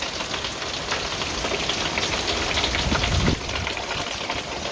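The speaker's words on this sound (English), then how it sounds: "It's rain in Las Vegas." Rain falls steadily in Las Vegas with a dense, even hiss, constant and moderately loud throughout, and no voices heard.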